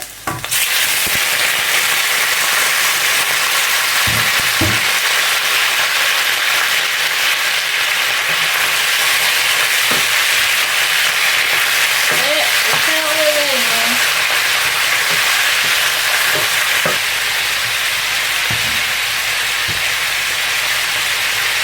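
Chicken gizzards with onion and coriander sautéing in a pan, a steady close hiss of frying that runs throughout with a few faint clinks and stirring sounds.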